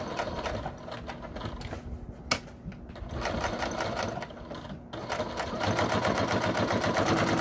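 A sewing machine runs a top stitch along the edge of a small fabric gift, its rapid needle chatter steady and close, pausing briefly midway with a click before resuming faster and louder.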